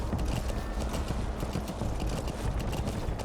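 Rapid, steady clip-clop of horse hooves in Metal Gear Solid V: The Phantom Pain, loud and close, galloping continuously without pause.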